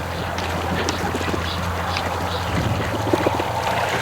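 Several ducks from a small raised flock quack intermittently, close and fairly loud, over a constant low droning background.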